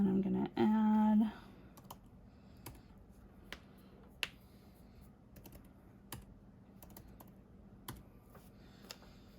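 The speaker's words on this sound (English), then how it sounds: "I'm going to type it in real quick." Typing on a computer keyboard at a desk, a few sparse separate key clicks spread out after a brief loud hum at the start, close and fairly quiet.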